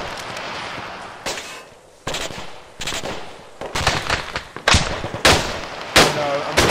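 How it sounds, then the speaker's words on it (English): Heavy machine gun fire from a truck-mounted gun in the Arma 3 video game rings out in loud, sharp bursts, about eight of them, quickening toward the end. "Pull up the truck with the HMG."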